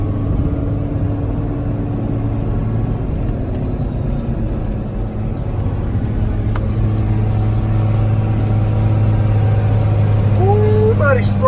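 A pickup truck with a Cummins diesel swap, its engine labouring in third gear at about 33 mph up a steep hill, gives a steady loud low rumble throughout, rising a little toward the end.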